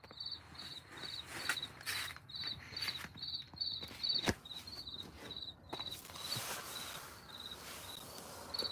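Crickets and other insects chirp steadily at night in a rhythmic, high pulsing pattern with faint rustles and footsteps underneath, fairly quiet and continuous throughout.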